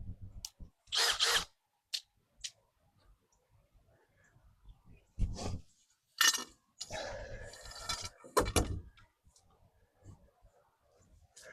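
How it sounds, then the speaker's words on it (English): A power drill runs in several short bursts while fixing a sagging fence gate, loud and close, with brief gaps and a longer whirring stretch between bursts, plus light clicks and handling noise. "So we got our drill."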